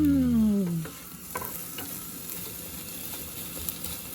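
Eggs with chorizo frying in a pan give a soft, steady sizzle after a brief tonal whine at the start, with occasional light scrapes of stirring, moderately close and without any talking.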